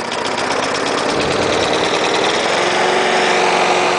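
Old lawn mower engine running steadily after starting on choke, a loud continuous close-up chugging drone with a slight uneven knocking pulse and no talking.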